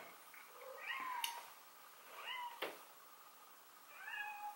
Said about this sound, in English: If you can hear my cat, I'm sorry.